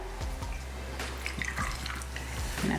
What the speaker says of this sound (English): pineapple vodka. Again, you're gonna do 1 ounce, pour it in